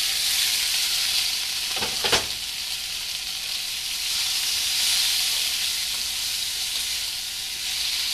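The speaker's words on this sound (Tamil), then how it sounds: "கத்திரிக்காயை வந்து லைட்டாக வதங்கணும்" Brinjal and garlic saute in a hot pan with a constant close sizzle, and a brief scrape of stirring rises near the start.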